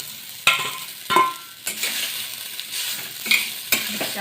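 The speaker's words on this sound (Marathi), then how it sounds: "साबुदाणा आपण थोडासा परतून घेऊया" Soaked sago is sautéed with green chilli in a pan, with a light sizzle broken by several sharp scrapes and taps of a spatula, close with no voices.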